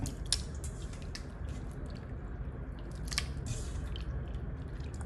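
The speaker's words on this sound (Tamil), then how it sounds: "கையில் நல்லா இப்படி கரைச்சி எடுத்துக்குங்க" Raw goat blood crumbled and crushed by hand into small pieces before frying, producing continuous soft wet squishing and crackling, close and fairly quiet.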